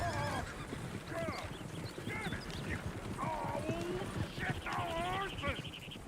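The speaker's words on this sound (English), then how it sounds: "Damn horses." Horses whinny and neigh again and again in the Red Dead Redemption 2 video game, mixed with hoof clatter and a busy background, while people talk over them.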